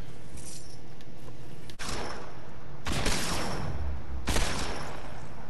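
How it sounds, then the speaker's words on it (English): Gunfire in the video game Fortnite, heard as a few sharp bursts of shots spaced a second or so apart, loud and close, over low background game noise. "I thought they were shooting at me"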